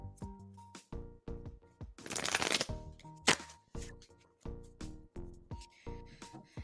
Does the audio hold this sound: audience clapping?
no